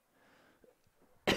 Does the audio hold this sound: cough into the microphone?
yes